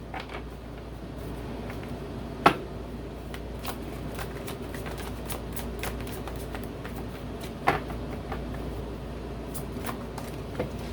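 Continuous soft riffling of cards being shuffled, with occasional sharper snaps and taps, close and steady throughout with no talking.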